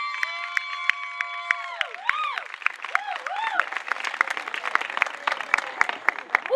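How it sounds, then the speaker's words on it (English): An audience at an arts foundation's centennial celebration breaks into clapping and cheering as a woman is called up, a bright tonal melody and whoops ringing over scattered applause, with a voice calling out in the mix. "Please step right up and give this woman a grand round of applause."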